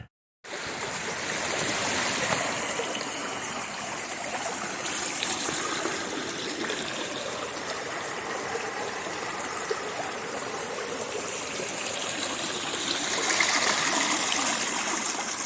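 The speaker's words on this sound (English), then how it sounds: "This is the 3rd crossing of this little creek here" A small creek babbles and trickles steadily, close by and fairly loud, with a continuous broadband rush of running water and no voices.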